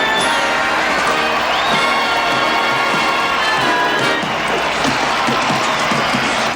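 A big crowd at a hockey game cheers and screams wildly, a steady, loud roar of shouting mixed with clapping that keeps going without letup.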